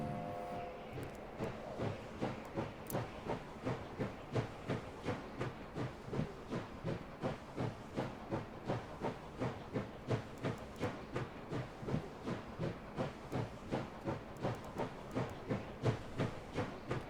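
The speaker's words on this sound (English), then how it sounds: "Let's start the train" In the video game Last Train Home, a train starts and rolls along with a steady, rhythmic clickety-clack of wheels over rail joints, each beat evenly spaced and continuing throughout, with a faint hiss at the outset.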